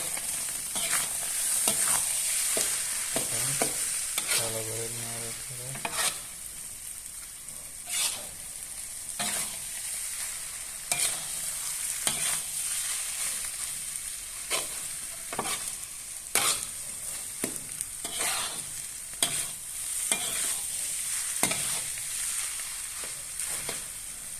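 Rohu fish roe frying with chopped spring onion gives a constant sizzle in the pan. Repeated scraping and tapping strokes of a spatula come through it at irregular moments, and no one speaks.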